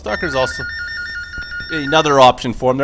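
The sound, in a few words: phone ringing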